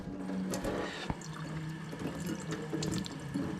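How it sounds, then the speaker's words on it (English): Warm water runs steadily from a kitchen tap, rinsing a chili pot or can, a continuous close splashing rush with a few small clinks against metal. "I think I'll even run a little warm water to get out all this good"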